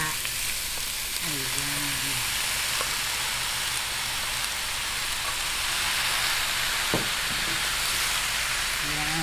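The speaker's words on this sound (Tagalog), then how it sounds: "umpisahan po muna nating prituhin to. Palabasin po natin yung kanyang mantika." Meat frying in a pan to render out its fat, a dense, steady sizzle throughout, with a brief spoken word and a few clinks over the top.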